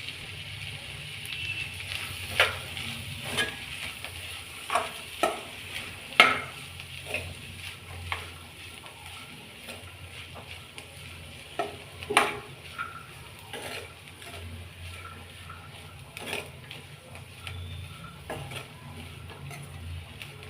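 Black-eyed peas with dried grated coconut frying in a pan for a palya, soft steady sizzle under repeated scraping and clinking as a spoon stirs, nearby and moderately loud, no voices.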